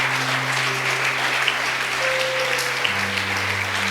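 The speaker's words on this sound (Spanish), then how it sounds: "Dele palmas al Señor de manera especial." Steady applause from a church congregation fills the room, dense and continuous for the whole stretch, with a sustained tone droning underneath.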